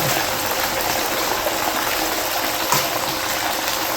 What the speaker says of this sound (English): Splash it up just to get everything out of there